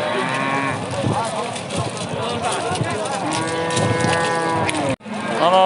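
Cattle mooing repeatedly at a busy Tajik livestock market where cows with calves are sold, several overlapping lowing calls near and far over crowd noise, with a brief dropout near the end.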